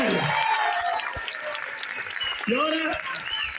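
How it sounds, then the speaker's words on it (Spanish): Applause from an audience at a primary school graduation ceremony in Vigo, steady clapping with cheering children's voices and shouts rising above it throughout. "¡Más aplausos, venga!"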